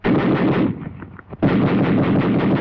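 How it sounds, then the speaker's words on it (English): A machine gun fires in dense, rapid, loud bursts. The fire breaks off briefly for about half a second, then resumes at full intensity. "A carbine. A machine gun. A BAR."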